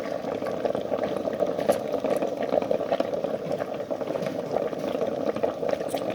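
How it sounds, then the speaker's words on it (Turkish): Water boils steadily in a pot to melt beeswax for a wood finish, giving a constant low bubbling roil, moderately close and fairly quiet, with no voices. "Su kaynadıkça"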